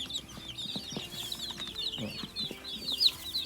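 Small guinea fowl chicks, close to ten birds, on a poultry farm make continuous soft clucking and high peeping calls, overlapping and fairly near, with occasional louder chirps and faint rustling.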